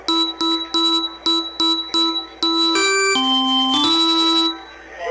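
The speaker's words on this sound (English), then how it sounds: "There's somebody still playing like a keyboard in my phone." A bright electronic bell-like melody tapped out note by note on a phone, loud and close, the tune of Jingle Bells with a few sustained tones.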